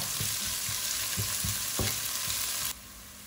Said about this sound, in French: Le but du jeu, c'est quand même de caraméliser légèrement les oignons